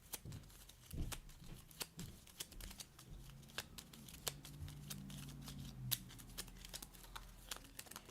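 Cards for the Frosthaven board game are shuffled quietly at the table, a run of soft, rapid riffling clicks and flicks with brief pauses, close and faint.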